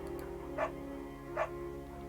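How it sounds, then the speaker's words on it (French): A beagle in the video game Firewatch gives two short, fairly soft barks about a second apart over a quiet steady ambient background. "on va prendre le beagle parce que ça lui fait plaisir à Julia"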